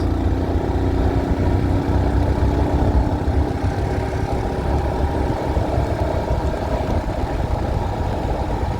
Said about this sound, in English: Who says the Himalayan hasn't got the power to overtake?